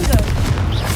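A Confringo fire spell explodes in the video game Hogwarts Legacy, giving a short, loud boom that fills the whole second.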